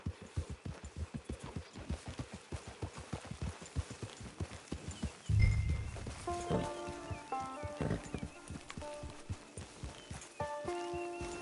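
Steady rhythmic hoofbeats of a horse clip-clopping along in the video game Red Dead Redemption 2 Online, with a snort midway and soft musical tones rising over the trotting.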